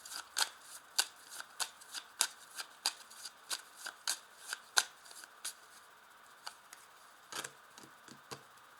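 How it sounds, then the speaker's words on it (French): A deck of 32 playing cards being cut and shuffled by hand, giving a run of crisp, close riffling snaps in fairly even rhythm, quiet overall with a few looser flicks toward the end. "je vais déjà faire une première découpe de ce jeu, du jeu de 32 cartes"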